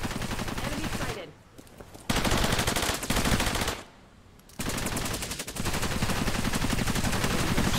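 Soldiers firing dense, rapid automatic gunfire in the video game Cepheus Protocol, loud continuous bursts broken by two short pauses, with no talk over them.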